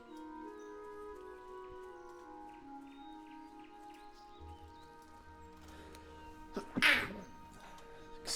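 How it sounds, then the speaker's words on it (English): A single sharp sneeze bursts out near the end, loud and close, after a stretch of quiet background game music with soft ambient tones. "Otherwise I just sneezed on camera."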